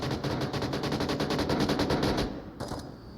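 Rapid automatic gunfire in the VR shooter Onward during a competitive league match, a quick burst of evenly spaced shots at moderate distance, then a short final crack.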